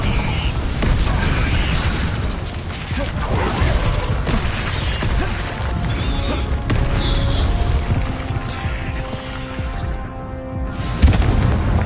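Incendio and Expelliarmus spells are cast during a Hogwarts Legacy battle, and a dense, loud stretch of booms, blasts and shattering crashes runs throughout, ending in one sharp burst.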